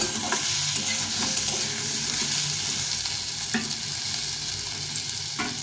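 Potato and bitter gourd fry in a shallow layer of oil while being stirred, a steady close sizzle broken by several scraping knocks of a spatula against the pan, no talking.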